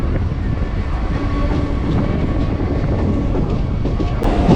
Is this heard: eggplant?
no